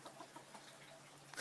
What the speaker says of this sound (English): Just showing my chickens.